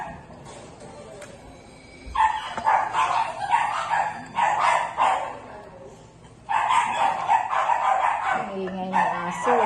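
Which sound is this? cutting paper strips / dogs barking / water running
dogs barking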